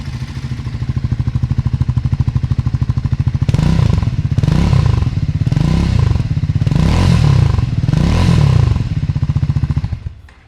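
Triumph Scrambler 400X motorcycle idling close by, a steady low exhaust thrum with a smooth, even beat that swells into a few rhythmic throbs before cutting off near the end; no voices.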